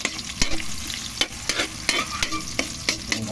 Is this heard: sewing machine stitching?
no